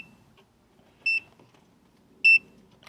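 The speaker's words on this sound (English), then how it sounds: "And it's counting down, and then one long beep" An AUTOWIT jump starter connected to a car battery gives two short, bright electronic beeps about a second apart while counting down, clear and isolated over a quiet background.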